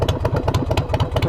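Motorcycle engine running through new aftermarket exhaust pipes, a loud, close, rhythmic lumpy idle with regular popping pulses and mechanical clatter.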